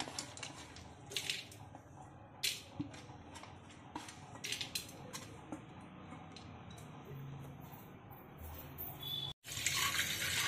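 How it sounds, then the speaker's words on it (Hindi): Water runs and splashes in a bowl as lentils are swirled and rinsed, with small clinks and a louder gush at the end. "दाल ले लिए, इसको धो लेते हैं"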